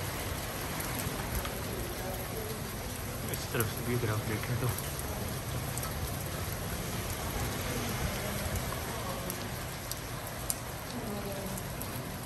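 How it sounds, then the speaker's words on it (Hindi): Steady, dense rain pours throughout, a constant hiss over everything, while someone talks over it now and then. "बहुत तेज़ बारिश हो रही है इस वक्त"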